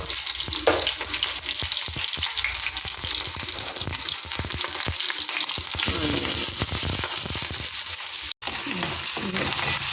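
Curry leaves, green chili and onion frying in hot oil with mustard seeds, a steady close sizzle with bursts of crackle and occasional stirring scrapes, continuous with one brief cut near the end.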